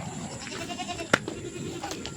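Goats on a rural provincial property, one loose from its tether, give a brief, faint bleat midway through a quiet stretch of outdoor background noise.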